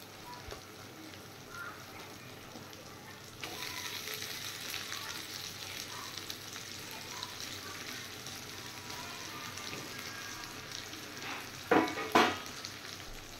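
Fried katla fish pieces going into a hot oily pan, the sizzle jumping up sharply and then holding as a steady close frying hiss, with a couple of clattering knocks near the end.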